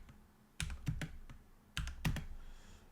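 Two quick bursts of keystrokes on a computer keyboard, each a handful of close clicks, separated by a short pause in a quiet room, as code for a programming loop is typed out.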